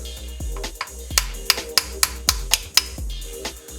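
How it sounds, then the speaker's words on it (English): Sharp metallic hammer blows ring out in a steady series, about ten strikes with a couple of quicker taps, close by and loud. "Grab a hammer."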